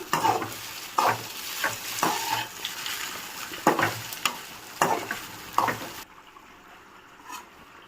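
Vermicelli and fried onions are stirred in a pan for upma, with rhythmic scraping strokes about once a second over a soft sizzle, close up, ending in near quiet with one faint last scrape.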